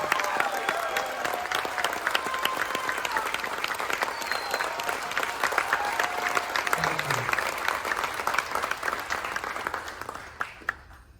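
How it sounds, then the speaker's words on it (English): Passengers aboard the Carnival Breeze cruise ship at a military appreciation event give Vietnam War veterans a long, sustained round of applause, dense crowd clapping with scattered voices, steady before fading out at the end. "Vietnam War, if you're here, we'd like to give you the loudest round of applause."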